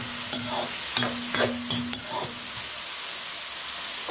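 Water is added to meat sautéing in a pan, giving a steady loud sizzle and hiss with several scraping stirs of a utensil in the first two seconds, then a continuous bubbling fry.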